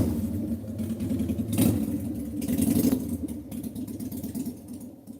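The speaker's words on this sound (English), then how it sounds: "Here comes Motorcycle Man." A motor vehicle rumbles past at moderate distance, its engine swelling twice and then fading as it moves away.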